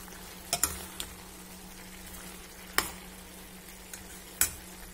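Pumpkin palya with freshly grated coconut stirred in a pan, a spoon scraping and clinking against the metal in a few separate strokes over a soft, steady low sizzle, close by, with no one talking.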